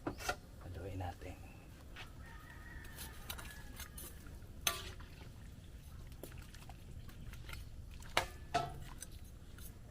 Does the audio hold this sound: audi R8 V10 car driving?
no